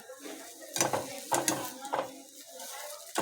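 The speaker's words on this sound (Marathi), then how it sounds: "हलवून घेऊया आपण चांगलं नीट" Sugar is stirred into crumbled leftover chapati churma in a pan, giving four or five distinct scraping, rattling strokes of a spoon against metal with quiet pauses between them.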